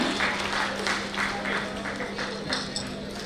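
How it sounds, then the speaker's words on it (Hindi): Applause from an audience at an award ceremony honouring school students with scholarships, a steady wash of clapping with a faint low hum and some talk underneath, lasting a few seconds. "पहले एक बार जोरदार तालियां"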